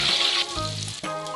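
Salted fish frying in used cooking oil, a steady loud sizzle and crackle that shifts as pieces are moved, with faint utensil sounds between.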